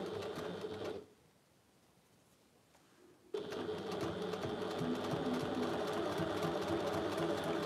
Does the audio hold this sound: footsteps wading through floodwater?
no